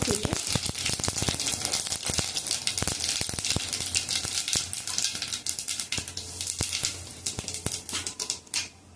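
Mustard seeds and cumin sizzle and pop in hot oil on a gas stove, a dense crackling spatter with sharp irregular bursts throughout, close and loud.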